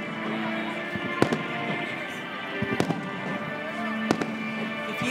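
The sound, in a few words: fireworks display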